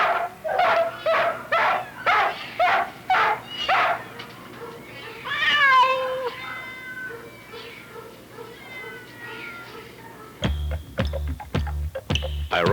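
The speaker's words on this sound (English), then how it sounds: "The cries of millions of unwanted cats and dogs are lost among our concrete walls" Unwanted cats and dogs cry out: a run of rhythmic meows, then a drawn-out wailing caterwaul, and finally sharp barks, moderately loud and heard on their own.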